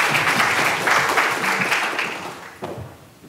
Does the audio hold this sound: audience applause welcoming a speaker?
yes